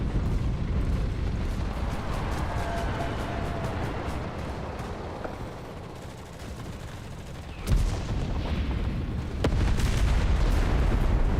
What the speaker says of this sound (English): It sounds like it might be an Italian gun.